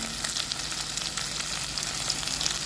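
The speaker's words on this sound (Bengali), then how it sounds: "এক থেকে দু মিনিটের মতন এভাবে নাড়িয়ে নেবেন" Roughly chopped onions with garlic and ginger sizzle steadily in a hot pan while being stirred, a continuous close frying hiss with faint scraping, while cooking soyabean kosha.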